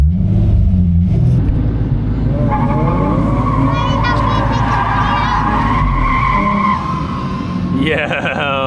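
Car drifting in circles at a ladies' drift day, engine revving hard on too much throttle with long rising tire squeals, loud and close, voices talking over it.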